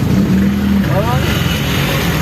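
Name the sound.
motorcycle passing by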